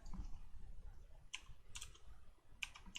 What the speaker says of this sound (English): so I will type in